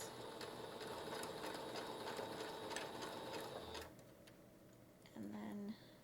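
Sewing machine stitching across a fabric cross-stitch project bag, a steady rapid mechanical chatter running for about four seconds before stopping, followed by quieter handling and a brief whirring tone near the end.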